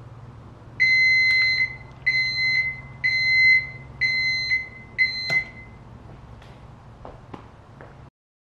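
Flame sensor alarm on an Ortur Laser Master 2 Pro laser engraver gives five loud, evenly spaced electronic beeps over a low hum, followed by a few faint clicks before it cuts off.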